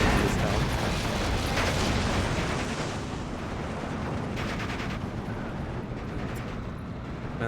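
Off-map artillery strike in the Steel Division 2 wargame, a dense rumbling barrage of booming impacts and crackling bursts that rolls on continuously and stays loud throughout.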